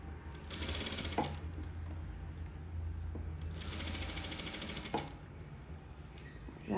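Domestic sewing machine running steady bursts of stitching along a dress seam, a continuous mechanical whir with rapid needle clatter, pausing briefly around the middle, close and moderately loud with no talking.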